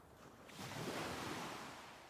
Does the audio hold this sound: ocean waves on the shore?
yes